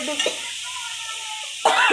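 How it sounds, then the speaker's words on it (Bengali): Masala spices frying in a pan for a doi katla fish curry, with a few soft stirring scrapes and a gentle sizzle. A louder burst of sizzling or stirring arrives near the end. "একটু ভেজে নিই।"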